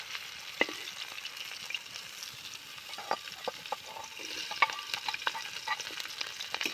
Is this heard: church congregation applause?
no